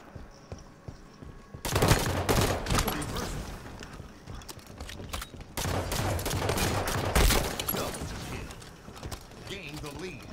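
Rapid pistol gunfire rattles through an online shooter match in dense, repeated volleys, with players talking over the shots.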